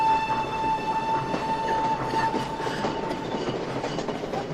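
A train rolls along the rails with steady clickety-clack and a sustained whistle-like tone, loud and continuous throughout.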